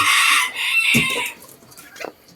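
Rooster crowing among show chickens kept in wire cages, a loud close crow opening the moment, followed by a couple of shorter clucking calls and a faint final cry.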